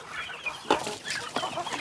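Chickens cluck on a Thai farm at feeding time alongside ducks, with several short clucks and calls at close range over a steady background hiss.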